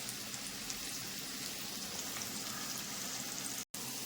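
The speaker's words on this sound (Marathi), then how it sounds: "मी आता तेलामध्ये कांदा टाकते." Onion fries in hot oil for a chicken dish, making a dense, even sizzle close by that breaks off for an instant near the end before resuming.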